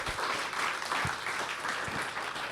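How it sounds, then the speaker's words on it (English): Conference audience applauding the panelists at a Nordic Arctic Day keynote event, a steady roomful of clapping with a few louder individual claps standing out near the front. "let's give all the panelists a round of an applause"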